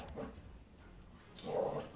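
A dog in the Crusader Kings 2 strategy game barks and whimpers faintly in the background, with a couple of short yelps over a low murmur.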